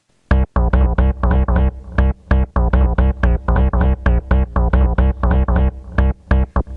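Synth sequencer pattern of short, punchy plucked notes in a fast, swung rhythm with delayed offbeat notes, loud and close, played alone without talk.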